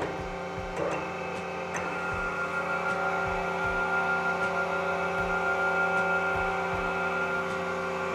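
A surface grinder's abrasive wheel spins up and runs steadily at close to 1800 rpm during balancing, giving a constant machine hum with a faint, regular ticking pulse throughout, with no voices.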